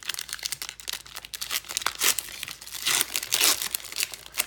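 Crinkling and tearing of a foil NBA Prizm trading card pack wrapper being opened, a close, continuous rustle with sharper crunchy bursts partway through, and no talking.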